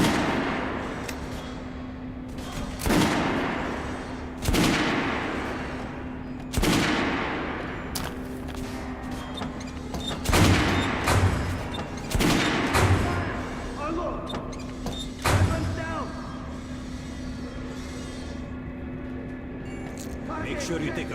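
Gunfire in the post-apocalyptic shooter game Metro Last Light Redux: a string of loud, sharp shots and bursts spaced across the scene, some in quick clusters, with game sounds filling the gaps.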